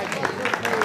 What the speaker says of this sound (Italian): Un applauso al nostro Rosario.